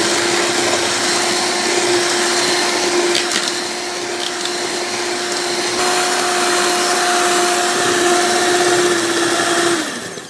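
An electric mixer beats cake batter as sugar is added, a loud, steady whirring drone close by that holds its pitch throughout and winds down at the very end.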